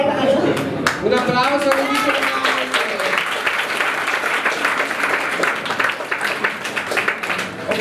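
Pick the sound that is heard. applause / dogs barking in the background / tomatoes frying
applause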